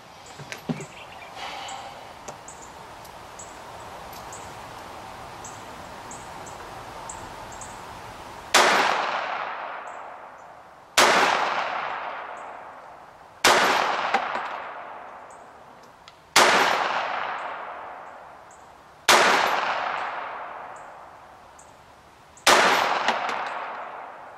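A .380 pistol emptying its last magazine at targets: after several quiet seconds, six sharp, loud single shots ring out at roughly even intervals, each trailing off into a decaying echo.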